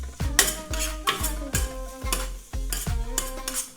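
Ground mince mixed with salt and pepper on a hot griddle, a utensil scraping and stirring in repeated strokes with faint sizzling underneath, close and fairly quiet, with no talking.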